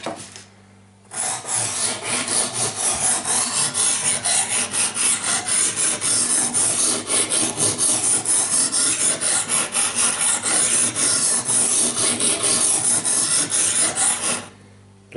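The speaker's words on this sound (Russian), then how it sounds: "вот с помощью этих брусков сначала грубую заточку" Steady, continuous rasping strokes of ice auger blades rubbed back and forth on a whetstone, close and loud, stopping abruptly at the end.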